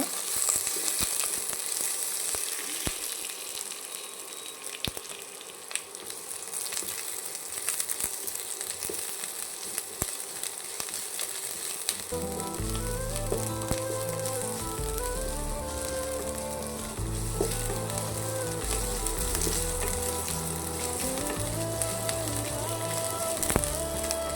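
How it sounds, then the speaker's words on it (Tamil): Onions sautéing in a pan while being stirred, a steady crackling sizzle that carries on throughout, joined halfway by loud background music. "வெங்காயம் நல்லா வதங்கணும்"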